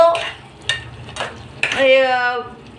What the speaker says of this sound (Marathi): टोमॅटो आणि फोडणीचं तेल सुट्ट होईपर्यंत आपण ते भाजणार आहोत